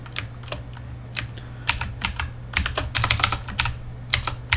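Typing on a computer keyboard sounds as a close, irregular run of crisp key clicks that speeds up toward the end over a low steady hum, with no talking.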